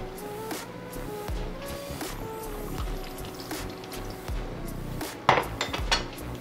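Utensils clink and scrape against a dish while ingredients, including lemon juice, are mixed for a Haitian breakfast, a steady run of light metallic taps capped by a louder clatter near the end.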